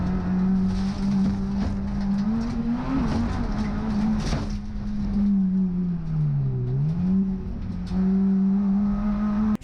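Production rallycross car in a BTRDA race at Lydden Hill, bouncing through the loose section with a steady engine drone that dips and rises, plus rough gravel rumble, loud and continuous.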